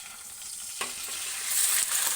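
Garlic sizzles steadily in hot oil in a pan while chicken jalfrezi is being made, a dense continuous hiss that swells louder toward the end, with a faint stir or clink partway through.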